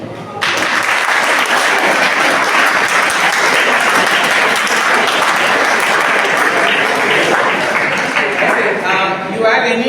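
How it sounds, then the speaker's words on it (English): A big round of applause from a class, dense steady clapping that starts abruptly and holds loud and even, with a voice faintly audible near the end. "Okay, guys, a big round of applause."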